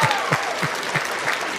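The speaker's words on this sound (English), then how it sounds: "Let me give him a round of applause." A brief burst of crowd applause for a guest at a combat ring announcer's call-in show, with rhythmic clapping thumps pulsing steadily under a dense wash of hands and faint voices.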